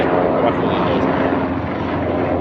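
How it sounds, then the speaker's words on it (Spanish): Firefighting helicopters work over a burning industrial building in Ukraine's Dnipropetrovsk oblast. A steady, loud rotor and engine drone continues throughout while someone talks over it. "de los helicópteros extinguiendo el fuego"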